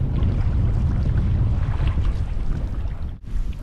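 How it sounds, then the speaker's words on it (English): Strong wind gusting over a lake on a canoe trip in Dalsland-Nordmarken, Sweden, a loud continuous rumbling roar of wind buffeting the microphone that drops out briefly near the end, with no voices. "The wind kind of blows for about 5 minutes and it stops for 5, it starts again."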